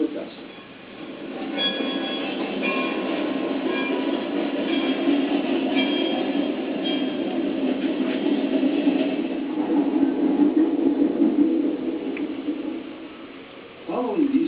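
Number 250, a steam locomotive on a railroad, passes the New Augusta agency station in the forests south of Hattiesburg. It gives a steady, loud rumble with faint clatter, swelling near the middle and easing toward the end.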